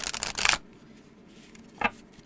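Tarot cards riffle shuffled, a loud dense burst of rapid card flutter lasting about half a second, followed by near quiet and one brief soft card snap.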